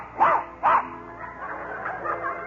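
Gus, a small trick dog in an old-time radio comedy skit, gives two sharp yipping barks close together, followed by softer whimpering sounds.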